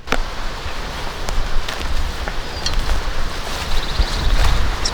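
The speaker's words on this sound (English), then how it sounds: "It's kind of windy today." Wind blows across a microphone outdoors in a garden, a steady low rumbling buffet with gusts and faint rustling, no voices.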